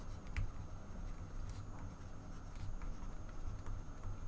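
Maths working is written out by hand for a GCSE geometry problem: a close, soft, continuous scratchy writing sound with small ticks and strokes, alone.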